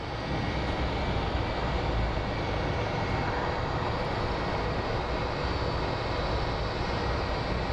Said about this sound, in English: So let's go see the Southwest. I think they're going to have a very, very smooth landing.